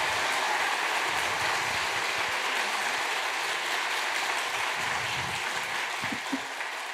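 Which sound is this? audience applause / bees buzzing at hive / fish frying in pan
audience applause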